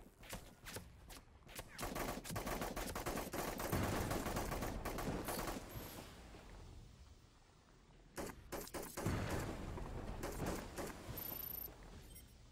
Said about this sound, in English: that's another player shooting at me